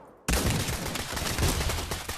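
Sustained gunfire from a Pavlov VR shooter game, a dense, loud burst of rapid shots that erupts suddenly after a brief quiet and keeps up without a break.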